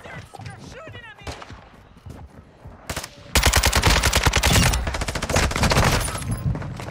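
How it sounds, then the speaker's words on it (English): Gunfire in the Modern Warfare 2 video game, with rapid automatic shots and bursts that grow loud and dense in the second half, while people talk over the action. "They're shooting at me."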